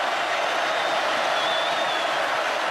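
A packed college football stadium crowd at the Auburn Tigers versus Alabama Crimson Tide game roars continuously, a loud, dense, unbroken wall of cheering and noise.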